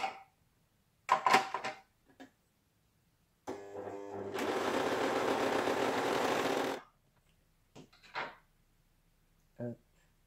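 Pfaff 1450OL Element overlock serger from Lidl running a three-thread overlock with its cutting knife trimming a clean fabric edge, one sustained whirring burst of a few seconds, close, with short handling clicks and brief French talk around it.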